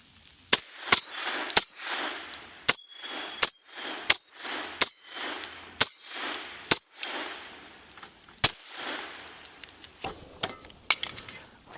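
A Smith & Wesson M&P FPC carbine fires MagTech 10mm rounds in about a dozen sharp, loud shots at an uneven pace, each crack followed by a brief echoing decay outdoors.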